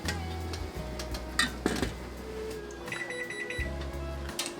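A kitchen timer being set while apricot jam boils for canning gives short electronic beeps amid light clinks of pots and utensils in a quiet kitchen, with no talking.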